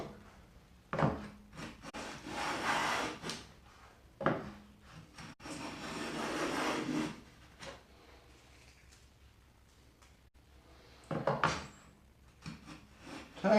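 Hand plane shaving thin curls off wood for a small spice rack, with a dull blade; several separate rasping strokes come close and fairly loud, with quiet pauses between them.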